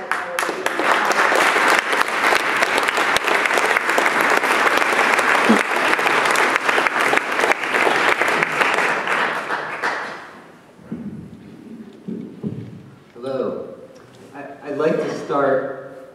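Sustained applause from a forum audience at the University of Washington Tacoma, loud and steady for about ten seconds before fading, followed by a speaking voice.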